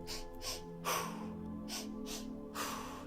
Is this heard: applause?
no